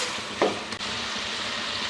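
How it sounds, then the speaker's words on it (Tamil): Onion and tomato sizzle steadily in a hot pan, a constant frying hiss with a brief stir or scrape. "சேர்த்துட்டு இதையும் நல்லா வதக்கிட்டுக்கலாம்"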